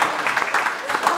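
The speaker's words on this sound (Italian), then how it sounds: "fatelo un applauso." Brief applause from an audience at an Italian film presentation, a short burst of steady clapping with a voice heard over it.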